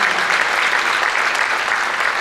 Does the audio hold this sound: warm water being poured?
no